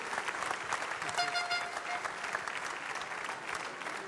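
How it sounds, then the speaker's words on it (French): A pastry competition audience at the Coupe du Monde de Pâtisserie applauds a guest from Ravifruit. A dense, steady wash of clapping fills the whole clip, with a few faint voices and a short tone underneath. "Thierry Sibu, que je vous demande d'applaudir."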